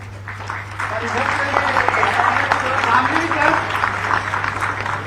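Continuous audience clapping at an Ayush doctors' appointment ceremony in Ranchi, sustained and fairly even throughout, with a voice faintly talking underneath.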